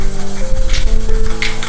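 A spray bottle is squeezed twice, giving two short misty hisses close by, with a low background hum underneath.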